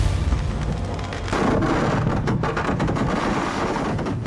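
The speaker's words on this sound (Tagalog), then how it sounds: "Biglang sumabog ang mga paputok sa gitna mismo ng mga nanonood ng fireworks display" Firecrackers explode among spectators at a fireworks display during a religious festival in India, a dense rumbling roar of bursts and booms that stays loud and continuous.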